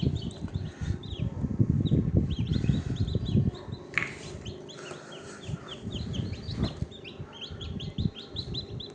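Newly hatched chicks fresh from an incubator cheep in rapid high repeated peeps, close by, over lower rustling and shuffling movement throughout.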